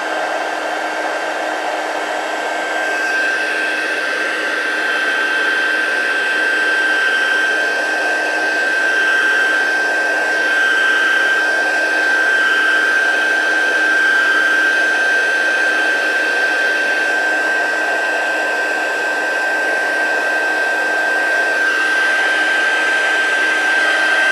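A heat tool blows continuously and loud at close range while drying a faux watercolor card, a steady whirring hum and rush of air holding unbroken for the whole stretch, with no talk.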